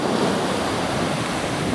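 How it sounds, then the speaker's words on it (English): Atlantic Ocean waves surging in a steady, continuous wash of surf with wind noise across the microphone, loud and close, no voices. "the Atlantic Ocean."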